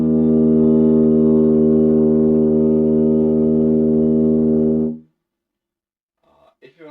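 Lips buzzing into a tuba mouthpiece hold one loud, steady, low, brassy drone for about five seconds, then stop abruptly, leaving silence with a little breath noise at the end.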